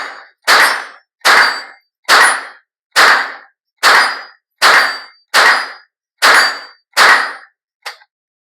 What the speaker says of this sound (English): we're going to hit the steel targets downrange